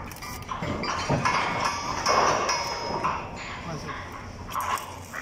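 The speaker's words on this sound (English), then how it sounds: "Hammer." Hammering on steel during tank erection on a work site, with repeated metallic strikes in an irregular rhythm under steady background noise and voices.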